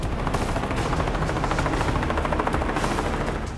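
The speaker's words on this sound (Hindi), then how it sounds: "ताबड़तोड़ रॉकेट दागने वाले हेलीकॉप्टर।" Military attack helicopter firing a rapid barrage of rockets, a dense, continuous roar of rotor noise and rapid-fire blasts at close range, steady and loud throughout.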